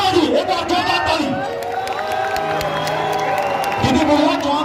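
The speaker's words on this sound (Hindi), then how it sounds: "एक बार जोरदार ताली" A crowd at a live folk music performance at the Gauchar mela in Uttarakhand claps and cheers loudly and continuously, with whoops rising over the sustained applause.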